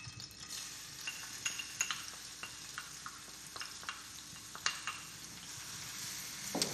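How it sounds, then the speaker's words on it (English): Chopped onion hisses and crackles in a hot pan, a steady broadband sizzle with scattered pops and light stirring clinks throughout, close and moderately loud with no talking. "We're going to put in our chopped onion."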